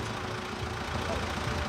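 A tractor named tractor of the year in 2003 idles at an evening tractor parade, a steady low rumble with a faint knocking pulse, continuous and fairly close throughout.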